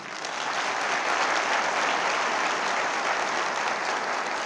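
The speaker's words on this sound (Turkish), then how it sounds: "Milletimize bir alkış buradan." An indoor conference audience breaks into sustained, dense applause, many hands clapping loud and close with no pause for the whole stretch.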